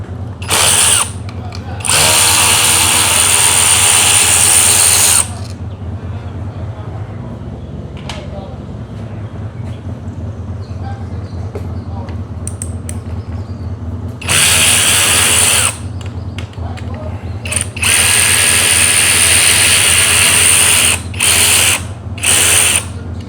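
A power tool spinning a 13 millimeter socket to remove front seat bolts on a Ford Excursion runs in several loud whirring bursts, with a steady low hum underneath and quiet stretches between the bursts.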